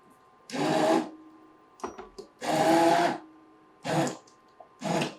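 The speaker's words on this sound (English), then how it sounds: "You want to make sure that the head of the immersion blender is underneath the surface, just like when we were crushing the tomatoes" An immersion blender whirs through tomato marinara sauce in several short bursts, each about a second long, separated by brief pauses with small clicks and knocks, loud and close.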